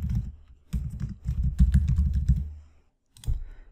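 Computer keyboard typing while entering an email address into a Microsoft Access 2016 report: quick bursts of close, crisp key clicks, a short pause, then a few more keystrokes.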